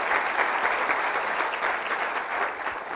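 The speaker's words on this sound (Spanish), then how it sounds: "Vamos a darles un aplauso." A church congregation gives a sustained burst of applause, dense, steady clapping from many hands, close and loud for the whole stretch.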